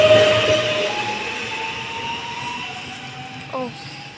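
A train pulls out of Warszawa Rembertów station, its loud, steady rumble easing as it departs, with a drawn-out tonal whine and a brief squeal near the end.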